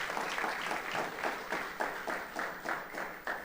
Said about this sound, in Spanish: Démosle un fuerte aplauso a estos hermanos.